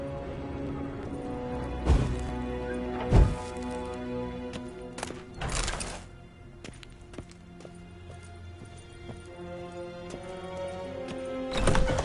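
Horse hooves clip-clopping at a gallop in The Witcher 3, steady and fairly faint under game ambience, with a few louder thumps along the way.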